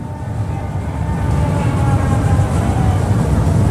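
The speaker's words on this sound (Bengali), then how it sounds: "এই যে দেখেন গুহার ভিতর থেকে ট্রেন চলে আসছে" A low rumble builds steadily as a picnic-spot ride train emerges from a tunnel and draws nearer, growing louder across the clip with a faint metallic whine above.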